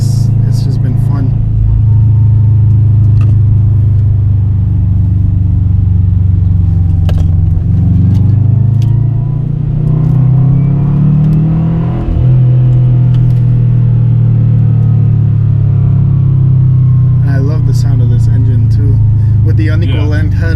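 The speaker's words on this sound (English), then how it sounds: "The unequal length headers, you get the nice rumble from it." Subaru WRX engine with unequal length headers giving a deep, steady low rumble throughout, swelling as it accelerates around the middle, with voices talking over it inside the car.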